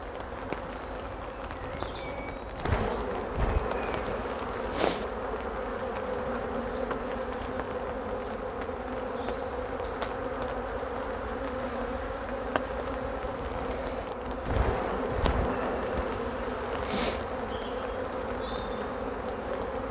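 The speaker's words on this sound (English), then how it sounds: "So I'm just going to shake a few extra bees into this one first." Honeybees being shaken off frames bearing swarm cells into a hive box, a dense steady buzzing drone with a few dull knocks and thumps from the shaking, close and continuous.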